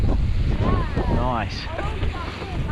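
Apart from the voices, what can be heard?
wind blowing during bike ride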